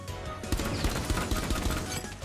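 Rapid gunfire in the video game Rainbow Six Siege: a fast automatic burst of sharp, evenly spaced shots, loud and close, running steadily for a couple of seconds.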